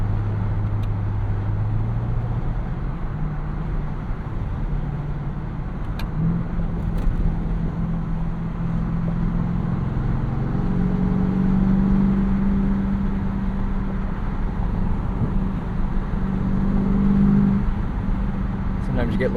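A 2024 Ford F-150 Raptor R pickup with a 720hp V8 runs through short pulls in manual mode, its engine droning steadily and rising in pitch a few times over the 19 seconds, with talk mixed in.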